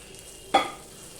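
A single sudden hiss of frying as something hits hot oil while cooking dried lote fish, close and brief, fading quickly into quiet.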